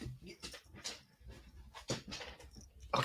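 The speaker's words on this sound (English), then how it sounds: "My dog under the table again." A dog whimpers and whines under a table indoors, a faint run of short, uneven whines and snuffly breaths with no talking over it.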